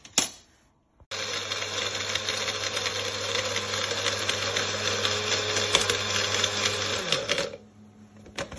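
A cassava grinding machine runs steadily for several seconds, a loud continuous mechanical hum and rattle starting abruptly and winding down to stop near the end.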